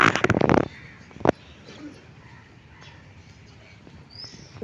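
A crow caws loudly in a quick burst of calls close by on a cold early morning in a village, then a single short caw follows, before quieter outdoor ambience with faint distant sounds.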